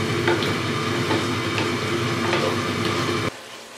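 A spoon stirs mutton karahi with fresh coriander in a pan, a steady close sizzle with faint scraping strokes that cuts off abruptly near the end, no voices.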